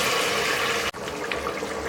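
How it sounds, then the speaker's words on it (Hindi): Half a cup of water is poured into a pan of chicken and potato curry over a medium flame, a short continuous splashing rush broken by one brief gap, then a softer sizzle and trickle. "अब फ्लेम को मीडियम कर देंगे और इसमें आधा कप पानी ऐड कर देंगे"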